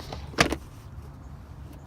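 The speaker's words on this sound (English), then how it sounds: "Let me go ahead and open up the car" A BMW i3 car door opens with a sharp, close latch click and thud, followed by quiet near-silence.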